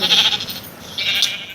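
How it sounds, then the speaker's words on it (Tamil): A goat bleats in a video game, two short, nasal calls, one at the start and another about a second later, fairly loud and with no voices. "ஆடு ஆடு காட்டுக்கறி கிடைக்க போகுது"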